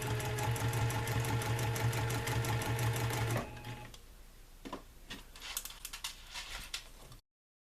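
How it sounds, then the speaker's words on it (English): A sewing machine meander-stitches a quilt in brown thread, running fast and steady for about three seconds, then stopping, leaving quieter handling noises and light clicks. "go ahead and just meander stitch down these stripes and all along this llama"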